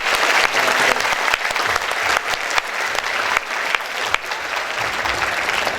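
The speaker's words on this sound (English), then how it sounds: "let's give a warm round of applause for the Professor Kydland" Sustained audience applause after a university economics seminar with Nobel laureate Professor Finn Kydland, steady and dense clapping throughout with no talk over it.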